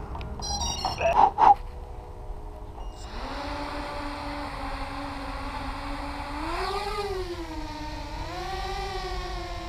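An ImpulseRC Alien 6-inch FPV quadcopter on a 6S battery lifts off and hovers, its propellers giving a steady tonal whine that rises and dips with throttle changes after a few short beeps at the start.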